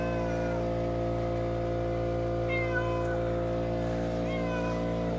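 A cat meows in a few short, rising calls near the middle and end, fairly close but soft, over a steady humming tonal drone.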